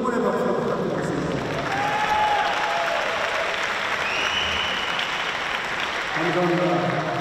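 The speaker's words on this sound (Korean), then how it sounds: "다시 한번 깊은 응원의 박수 부탁드리겠습니다." Audience applause at an Olympic table tennis team mixed doubles exhibition match, a steady wash of clapping with some cheering that swells slightly midway and carries through to the end.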